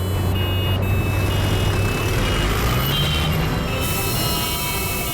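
Heavy truck engine rumbling steadily at close range, with a high tonal beep pattern over the low drone and no voices.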